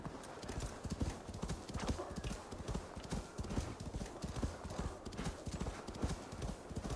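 Galloping hooves of a horse in Assassin's Creed Valhalla pound in a fast, steady clip-clop rhythm throughout, close and fairly loud, with faint game ambience and occasional low voice beneath.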